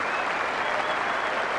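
Cricket crowd at Headingley applauding a departing batsman during a Test match, a dense, continuous wash of clapping filling the ground at a steady loud level with no gaps.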